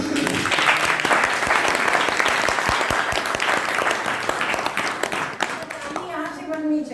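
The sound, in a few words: audience applause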